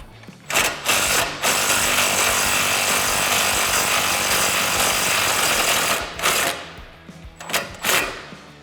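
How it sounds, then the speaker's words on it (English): Electric impact gun with an 18 mm or 15 mm socket loosening a lower control arm bolt on a 2006-2022 rear-wheel-drive Dodge Charger, hammering in a long loud burst followed by a few short rattling bursts. "I'm going to take my 18 millimeter, my 15 millimeter on my electric impact gun, and I'm going to loosen the lower control arm bolt up"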